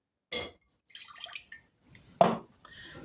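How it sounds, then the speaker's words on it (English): A short splash and trickle of water into a metal pot on a stove, with a second brief pour a moment later; quiet and close, no talking. "in this pot we're going to add a half a cup of water"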